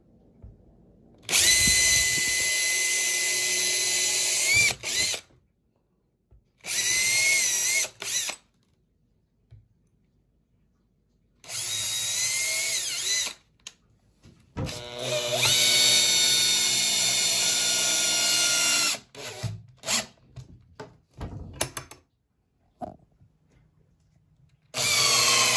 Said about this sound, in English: So we're gonna drill those in